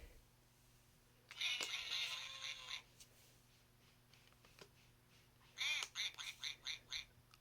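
Quacking duck from a Dora's Farm Adventure children's sound book, a short bright burst of quacks followed later by a rapid series of five or six clipped quacks, close and clear over quiet background.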